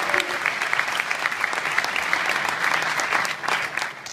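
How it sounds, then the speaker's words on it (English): Loud, dense applause fills a sold-out event hall, many hands clapping in an even roar that holds steady before tapering slightly at the close. "Applause for that."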